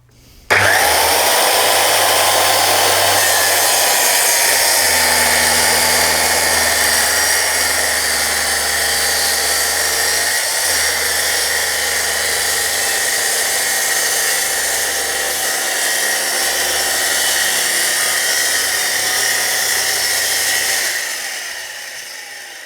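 A DeWalt circular saw rips through a 49 mm pine plank in one long continuous cut, a loud steady whine with a slowly wavering pitch that winds down at the end, with no talk.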